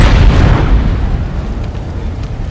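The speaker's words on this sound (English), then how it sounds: "I did walk up to an exploding vehicle of sorts, though, but I thought it already blew up" A vehicle blows up in The Godfather 2, a loud, close boom with a heavy low rumble that rolls on and slowly fades over a couple of seconds, with no voices over it.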